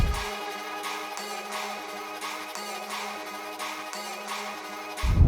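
Layered drum and bass ambience: sustained textured pads and noise washes with a repeating low tonal pattern, steady and wide, ending in a loud low-end hit as the track drops.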